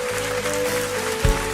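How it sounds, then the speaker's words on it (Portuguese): Applause from a congregation during a service at a Baptist church in Curitiba, steady and moderate over sustained organ-like musical tones, with a brief low thump near the end. "Pode aplaudir a Jesus"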